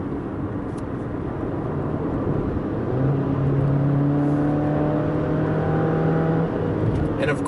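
A 2019 Jeep Compass four-cylinder engine drones steadily from inside the cabin, with a rising tonal whine as it accelerates, loud and continuous with road noise underneath.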